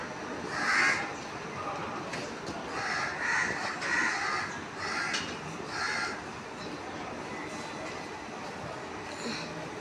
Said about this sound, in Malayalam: ഇവിടെയൊക്കെ കാക്കയാ.